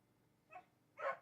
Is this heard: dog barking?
yes